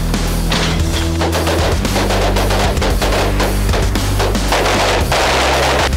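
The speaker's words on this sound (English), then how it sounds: "The FK Field Pistol has a proprietary recoil attenuating system that allows it to fire such a powerful cartridge." Rapid loud gunfire from an FK Field Pistol, shots fired in quick succession outdoors, dense and continuous with no talk.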